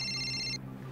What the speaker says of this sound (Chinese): 是毒贩的电话。